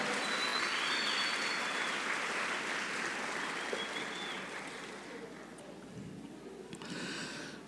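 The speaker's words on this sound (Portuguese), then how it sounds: "Dê um aplauso a Jesus Cristo, nosso Senhor." A church congregation applauds during a Brazilian worship service, a dense, sustained roar of many hands clapping that gradually tapers off, with a few cheers over the top.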